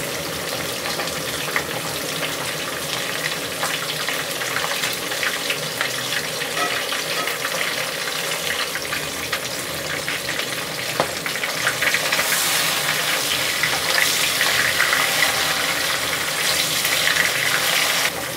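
Rohu fish pieces frying in hot oil over medium heat, giving a steady close hiss and crackle that swells slightly louder toward the end, with no talking.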